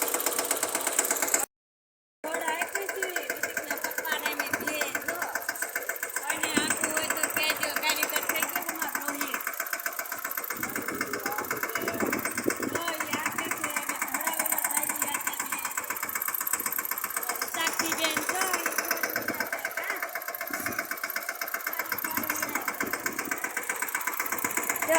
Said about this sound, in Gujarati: જો ટ્રેક્ટર કરી દીધું ચાલુ